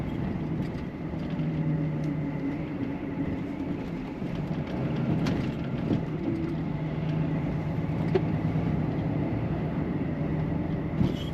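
A Citroën DS approaches at speed, its engine and road noise forming a continuous steady rumble that builds slightly, with some passing transients partway through.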